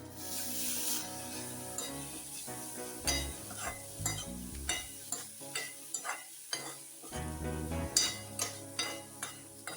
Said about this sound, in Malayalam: ഇനി നമുക്ക് പാവയ്ക്കത്തോരൻ ഒന്ന് ഇളക്കി വീണ്ടും 1-2 മിനിറ്റ് നേരം കൂടെ അടച്ചു വെക്കാം